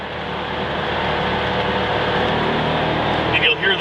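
A Maserati Cambiocorsa Spyder's engine pulls out of a turn on a test drive in Murrieta, California, a loud, sustained drone from inside the car that builds steadily, with brief voices near the end.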